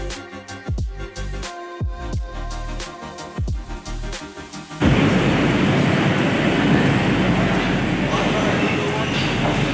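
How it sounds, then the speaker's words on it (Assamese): Metro train arriving at an underground station in Kolkata, first rhythmic clattering and squealing wheels with passing bursts, then a loud steady roar of the train filling the platform, with people speaking over parts of it. "so after waiting for some minute finally আমাৰ ট্ৰেইনখন আহি গ'ল"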